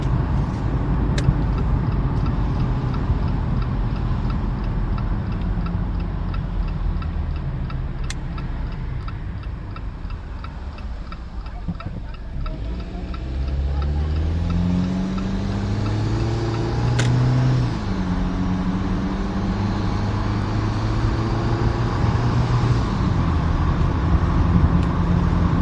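A car driving along a road around Margaretsville, Nova Scotia, with a steady engine and road hum, gear-like shifts in pitch partway through and a few faint clicks, with no talk.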